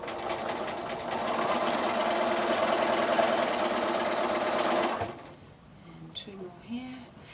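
A sewing machine chain-pieces quilt squares, its motor and needle running in a fast, steady rattling hum for about five seconds before stopping, leaving softer handling noises behind.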